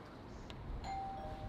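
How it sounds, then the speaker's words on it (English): A single electronic chime from a Nest Hello video doorbell rings out clearly, a sustained bright tone that lingers over faint background noise, with no talking. "so the doorbell works"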